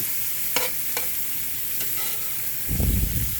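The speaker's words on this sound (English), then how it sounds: "I'm gonna fire the heat way back up to cook the steak because I don't want it juicy" Steak and red onions fry in a pan with a constant close sizzle, punctuated by a few sharp utensil clicks and a rough scraping stir near the end.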